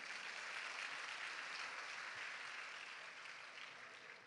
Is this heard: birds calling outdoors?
no